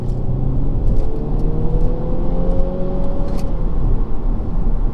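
A Mini Clubman JCW accelerates from 35 mph, its engine note climbing steadily under a constant rumble of road and cabin noise heard from inside the car.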